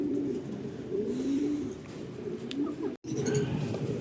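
Racing pigeons returning to a loft during a 105 km club training flight, soft repeated cooing and bird calls close by over a steady low hum of wind and background noise, with a brief dropout near the end.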